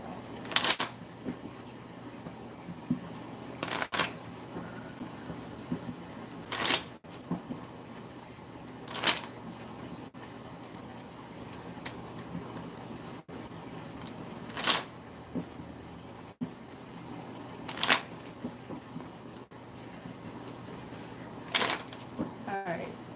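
Playing cards shuffled by hand in bursts, a sharp riffle every few seconds against a quiet room with low background murmur.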